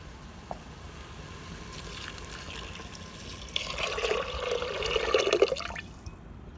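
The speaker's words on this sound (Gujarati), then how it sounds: "અને હવે પાણી ઉમેરીશું।" Water is poured into lentils cooked with a little ghee, a soft rising rush that grows louder toward the end before cutting off, near and moderate.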